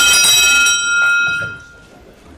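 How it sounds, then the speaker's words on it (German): A chairman's handbell rung at a city council meeting, bright metallic strikes with a clear ringing tone that fades out over a couple of seconds, close and loud. "ich muss erstmal wieder ein bisschen Glocken schlagen"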